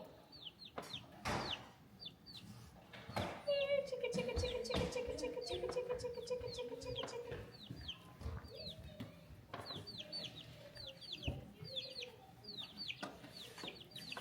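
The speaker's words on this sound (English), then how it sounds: "We're going to feed the chickens with the apples" Backyard chickens cluck and squawk in repeated bursts, some near and some farther off, while apples are fed to them. Thumps and handling noises mix in, with a brief higher chirping call partway through.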